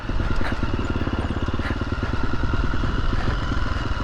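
A motorcycle descends a steep pass in first gear, its engine throbbing in a fast, even low pulse close to the rider, with faint clatter and no speech.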